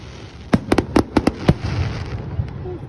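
Fireworks bursting in Japan: a rapid series of about six sharp, loud bangs in the first second and a half, then a softer rumbling crackle fading out.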